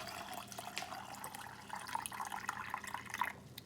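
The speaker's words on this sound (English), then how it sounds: "And I'll put the water in it and bring it up to a 1/2 inch headspace." Cold water poured into canning jars packed with chicken and seasonings, a faint trickling and dripping splash that rises and falls in short uneven spurts, quiet and close.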